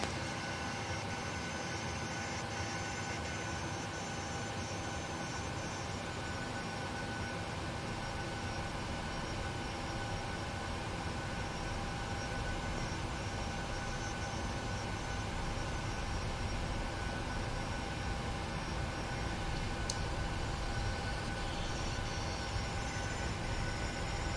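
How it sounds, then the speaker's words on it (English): A light aircraft rolls along the ground while taxiing, giving a steady, continuous drone of engine and propeller with broadband rumble that holds even throughout, close and constant with no talk over it. "We're taxiing, rolling on."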